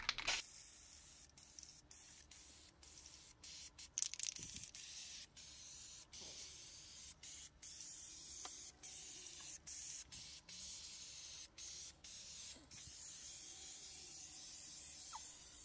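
Aerosol can of Duplicolor Vinyl and Fabric Specialty Coating spraying onto toy-grade plastic, a steady hiss broken into many short bursts with brief pauses between them, close and fairly quiet, no voices.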